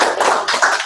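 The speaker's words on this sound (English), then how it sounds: "So a round of applause to Bernice." Brief, close applause at an evening business ethics lecture, a burst of clapping from a small audience lasting about a second, loud and dense with no talk over it.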